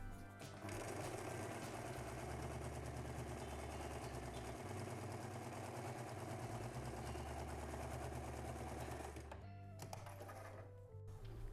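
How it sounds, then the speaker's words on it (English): A sewing machine stitches two pieces of fabric right sides together for a fan case, with a steady, close mechanical whirr and rapid needle rhythm that runs almost the whole time before stopping briefly near the end. "Then I'm going to sew them right sides together, making sure I lift the needle in while pushing the presser foot up"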